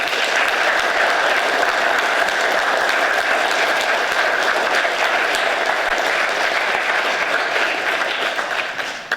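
A school auditorium audience at a veterans recognition assembly gives sustained, dense applause to veteran Mr. Mills. The clapping stays steady and loud for about nine seconds and thins slightly at the very end.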